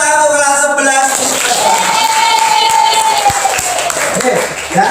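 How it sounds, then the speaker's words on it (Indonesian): A classroom of students applauding during a teaching session: dense, steady clapping fills the whole stretch, with a few voices and a thin whistle-like tone rising over it. "Oke, tepuk tangan untuk kelas"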